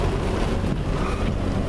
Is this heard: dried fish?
no